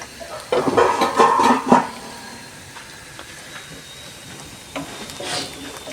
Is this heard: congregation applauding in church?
no